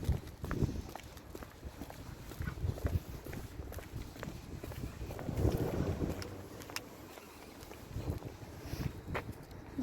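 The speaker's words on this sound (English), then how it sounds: "The wind." Wind gusting and buffeting outdoors during a walk, uneven rushing blasts with footsteps and faint movement underneath, fairly quiet overall.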